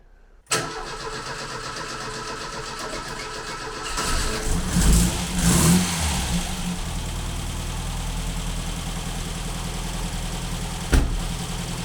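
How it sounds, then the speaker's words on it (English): A Ford Fiesta Mk2 with an old pushrod Kent engine cold-starts with a sharp crank and catch, settles into a close idle, then revs up in a few blips before dropping back, ending with a brief knock. "So it's real old school push rod engine, but I'm going to start it up because it actually sounds lovely."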